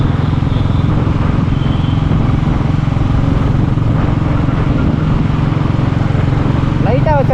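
A Royal Enfield Classic 350 motorcycle with no silencer thuds loudly and steadily at close range, a continuous rough engine drone that persists throughout.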